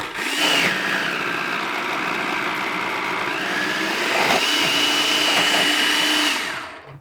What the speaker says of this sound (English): I am going to just grate up some cheese with it.